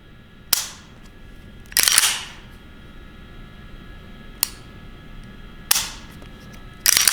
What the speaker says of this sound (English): I'll show you the reset and the pull here.